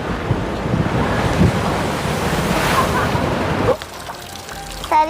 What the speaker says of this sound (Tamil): அப்படியே கடல் அடிக்கிற அடியை பாருங்க